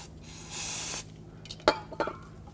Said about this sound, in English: you can use some brake parts cleaner and rinse it